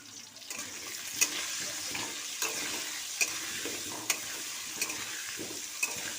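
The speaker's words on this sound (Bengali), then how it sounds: "আলুটা ভাজা বসিয়ে দিয়েছি, আলুটা নেড়ে চেড়ে ভেজে নেব" Potato pieces seasoned with salt and turmeric fry in a pan with a continuous soft sizzle, broken every second or so by a sharp spatula scrape or tap as they are stirred.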